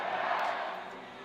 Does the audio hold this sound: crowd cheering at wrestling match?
yes